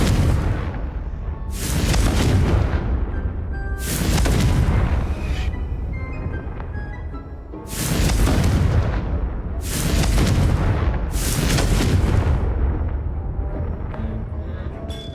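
Repeated Confringo blasting spells in Hogwarts Legacy, about six loud booming explosions at irregular intervals, each a sharp burst trailing into rumbling decay over a continuous low background.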